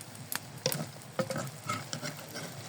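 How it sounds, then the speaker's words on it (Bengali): Mint leaf chops fry in oil over medium heat, giving a faint, steady low sizzle with scattered soft pops and ticks throughout. "আর 1 মিনিটের মতো মিডিয়াম আঁচে ভেজে নিব।"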